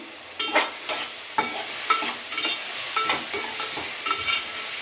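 Curry leaves dropped into hot tempering oil for an egg curry crackle and sizzle in a pan, with a steady hiss broken by several sharp spattering pops and stirring scrapes, close and fairly soft.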